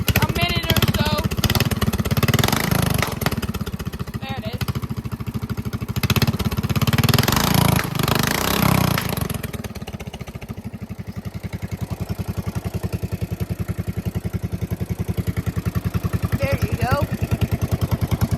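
A racing lawn mower engine runs loud and close, roaring steadily, then dropping and bogging unevenly before picking back up into a rough, pulsing idle, with a person talking over it.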